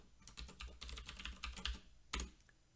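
Fast, close keystrokes of a password typed on a computer keyboard, a quick irregular run of clicks ending in one firmer key press, with no talking.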